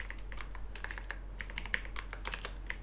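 Rapid, light keystrokes on a computer keyboard clatter in an irregular stream of close clicks while someone enters SQL and DAX column names, with no talking over them.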